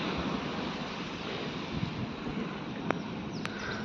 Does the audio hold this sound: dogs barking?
no